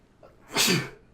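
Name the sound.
sneeze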